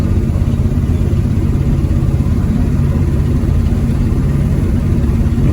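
A 1973 Pontiac Firebird's engine runs steadily and loud from inside the car as the faulty transmission loses drive, giving a constant low droning rumble with no pauses.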